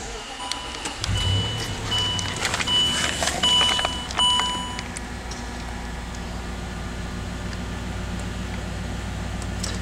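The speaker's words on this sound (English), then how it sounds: "let me turn the car on" A 2009 Land Rover Range Rover Sport HSE starts up from inside the cabin: a low rumble kicks in as the engine catches and settles into a steady idle, while electronic dashboard chimes beep briefly over it.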